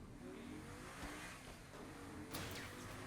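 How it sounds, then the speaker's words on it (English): In Saints Row The Third, an engine revs and hums steadily for a few seconds, rising in pitch with brief swells and a sharp surge near the end, the second best car in the game. "Second best car in the game."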